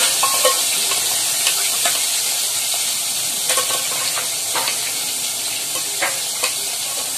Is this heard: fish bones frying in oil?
yes